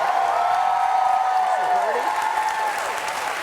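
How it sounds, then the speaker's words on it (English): Studio audience applause on a talk show, a steady dense wash of clapping that holds loud throughout, with voices talking over it. "No one does clap that much for me"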